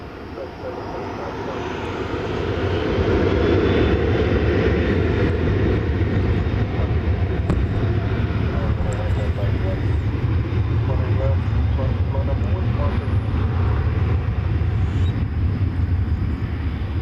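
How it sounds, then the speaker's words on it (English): An American Airlines Boeing 737-800 departs Dallas Fort Worth Airport at daybreak. A broad jet roar swells over the first few seconds, then holds loud and steady to the end. "Here goes American Flight 1429. It is pointing its nose toward Fort Lauderdale, Florida on a 737-800."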